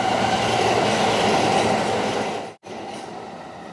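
A New York subway train rumbles loudly and steadily, with dense rail noise and faint clatter, then cuts out abruptly for a brief moment before resuming.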